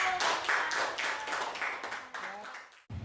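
A classroom of children claps together in a quick, lively burst that fades toward the end, with voices mixed in under the clapping.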